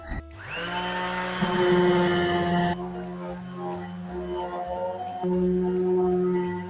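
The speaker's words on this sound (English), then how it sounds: "I got my orbital sander, and let's do this." An orbital sander works over a seam between new and old drywall, its motor spinning up into a steady, droning whine that shifts pitch slightly as pressure changes, close and unaccompanied by talk.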